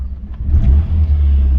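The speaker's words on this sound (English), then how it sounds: "Only if I blip the throttle. That is a very, very quiet little engine." A small, quiet Austin Rover Maestro Clubman engine is blipped once on the throttle, giving a short, close rev that rises and then settles back into a low, steady rumble.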